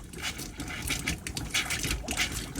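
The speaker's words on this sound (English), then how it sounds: "So you get a little bit of air like this if there's not quite enough water in the boiler." A caravan tap sputters as air and water spit out together because the boiler is not full, making an irregular gurgling, hissing splutter that stays loud and close throughout.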